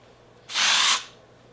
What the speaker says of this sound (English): I also use this kind of like a texture spray. So I lift my hair, spray a little bit